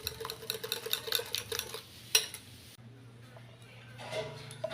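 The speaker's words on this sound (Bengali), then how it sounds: "স্টিনারের সাহায্যে সুন্দর করে সাবুদানাটাকে মিশিয়ে নিচ্ছি" Sago pearls are stirred into a mango sharbat with a strainer, making close clinking and swishing strokes that come in quick bursts and then stop. A quieter, stiller stretch follows.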